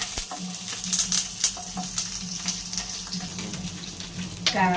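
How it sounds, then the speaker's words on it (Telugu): Curry leaves fry in a pan for mint rice, giving a steady close sizzle scattered with sharp crackles and pops and a low hum underneath, with no talking. "కరివేపాకు కూడా మంచిగా వేయించుకొని పెట్టుకోవాలి"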